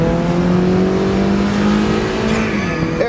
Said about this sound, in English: I'm going to go just leave it in D. We'll see how it shifts itself before I get into the paddles.